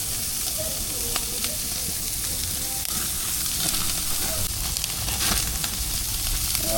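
Pork belly (liempo) fries in hot oil with a close, continuous sizzle and crackle, scattered sharp pops and spits breaking through the steady hiss.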